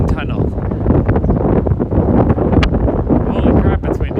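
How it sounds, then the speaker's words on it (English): Strong gusts whip between buildings on a clear day in Brooklyn and buffet the microphone, a loud rumbling roar that swells and dips irregularly, with faint sounds of a person mixed in. "Wow, super windy over here."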